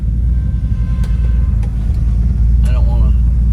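A 1963 Pontiac Grand Prix with a 421 HO Tri-Power V8 and four-speed idles steadily up close, a deep continuous low rumble with a brief higher tone and someone speaking over it near the end.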